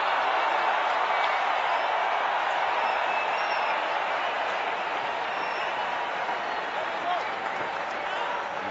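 A cricket crowd on the last day of a Test match roars after a boundary four, a dense, sustained wash of distant cheering and applause that holds evenly throughout.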